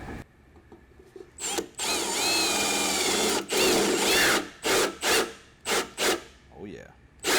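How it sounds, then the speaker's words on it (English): A carbide bit bores holes through a VFD enclosure for a 2x72 belt grinder, giving a loud sustained grinding cut with a whining tone, then several short bursts of cutting and a few clunks, all close up. "Let's test out this carbide bit."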